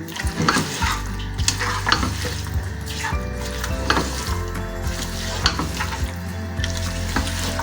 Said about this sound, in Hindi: तेज़ आंच पे हम इसको 1 मिनट के लिए फ्राई करेंगे।